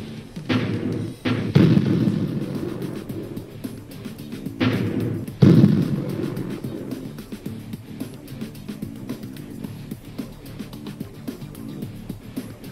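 Several tank cannon shots in the HoloLens game Holo Tankz land as heavy low booms with rumbling tails, a pair early and a stronger pair mid-way, then fading to a quiet hum.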